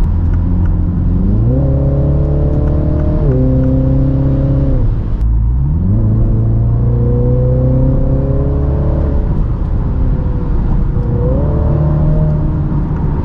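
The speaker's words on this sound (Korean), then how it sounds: "배기음이 장난 아니에요." A Mini Countryman JCW engine revs up through several gears, its loud exhaust note climbing in pitch, dropping at each shift, then rising again, close and continuous.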